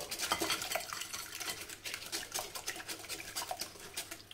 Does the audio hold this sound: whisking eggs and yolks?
yes